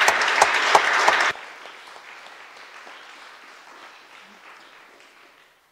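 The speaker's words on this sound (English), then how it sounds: "I need an applause for my colleague Tomáš Keller and the technicians for the streaming" Conference audience applauding a colleague and the streaming technicians, a loud burst of clapping for just over a second that cuts off sharply and leaves a faint room murmur.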